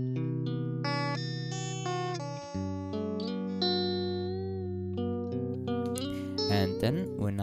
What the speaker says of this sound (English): I came to the conclusion that Snuffles' version is pitched up 2 semitones and 50 cents, so it sounds like this.